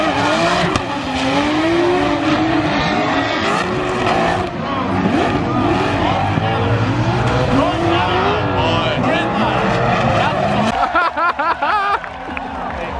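A BMW drifts at a grassroots motorsport event, its engine revving hard while the tires squeal in long, wavering howls, loud and close, with people talking over the noise and a brief break in the squeal near the end.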